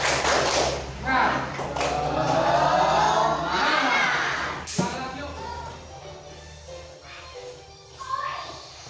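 A school class performs a rhythmic clapping chant together, with children's voices calling out in unison over sharp group claps and thumps in a lively classroom; a teacher speaks as well.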